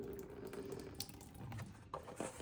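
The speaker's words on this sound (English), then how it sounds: "Then you can drain the rest in the sink or somewhere." Hot water poured from an instant yakisoba cup into a kitchen sink, a steady close splashing flow with a few small clunks, fairly quiet.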